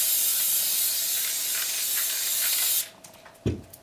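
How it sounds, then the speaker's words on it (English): Steady hiss of a spray can lightly misting adhesive over the back of a quilt for nearly three seconds, then stopping, followed by a soft handling thump; close and alone. "now I am just going to lightly spray the back of my quilt"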